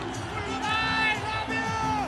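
Stadium crowd at a cricket match in Nepal roaring and cheering as a young batsman reaches his fifty, a steady wash of massed voices with whistles and shouts swelling and falling over about two seconds.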